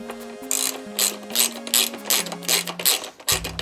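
A ratchet wrench clicks rapidly in short bursts, close and loud, while working on bolts of a Yamaha XJ6 S Diversion motorcycle during a tail tidy install.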